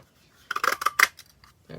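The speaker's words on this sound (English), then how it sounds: "let's punch this out" A craft punch cuts a shape from cardstock for a handmade card, giving a quick cluster of sharp, close clicks and snips lasting about half a second, then a short quiet and the start of a voice.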